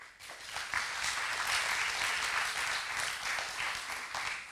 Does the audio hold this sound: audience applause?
yes